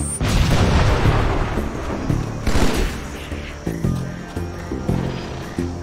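Grenade blasts and heavy booms from the video game Halo: Spartan Strike, loud and dense, with several thudding detonations stacking over a continuous rumble of combat noise.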